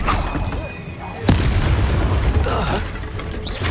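A Depulso force spell blasts out in the Hogwarts Legacy video game: a sharp, loud boom hits at once, then a busy rumbling rush of combat noise carries on with game voices in the mix.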